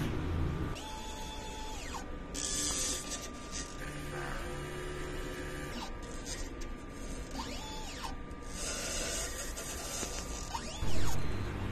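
An LCC Transfer It DTF printer runs a head-clean cycle, with steady mechanical whirring, a constant electrical hum, and repeated sweeping motor tones as the carriage moves back and forth. A brief louder clunk comes near the end.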